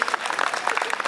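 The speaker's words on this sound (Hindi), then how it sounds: "जोर से क्यों नहीं बजाते ताली में?" Audience at a political rally claps in scattered, uneven bursts, moderately loud and steady for about a second, with a faint crowd murmur underneath.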